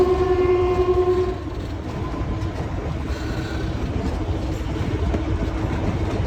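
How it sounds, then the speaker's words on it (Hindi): The Kalka-Shimla narrow-gauge toy train sounds its horn briefly at the start, then its wheels and carriages rumble and clatter steadily along the track at low speed, heard from on board with no talking. "सिर्फ 22 किलोमीटर पर आवर की स्पीड से चलती रिदमिक चगिंग के साथ ये खूबसूरत सी टॉय ट्रेन"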